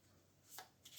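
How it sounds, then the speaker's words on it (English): A deck of playing cards is shuffled in two short, crisp riffle bursts, heard close but quiet with no voices. "we shuffle it like so"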